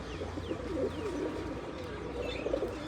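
Pigeons coo softly at a rooftop pigeon loft, low rolling calls repeating close by over a faint steady background hum, with no voices.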